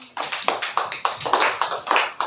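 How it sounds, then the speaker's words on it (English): Schoolchildren in a classroom clap together in a quick, brief round of steady, fairly even claps, heard close with no talking over them. "You all clap for yourself, children."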